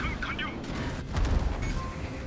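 Naval gunfire from a warship's turrets in a naval combat game, heard as a dull, rumbling volley of fairly quiet booms running through the clip, with a voice talking faintly over it.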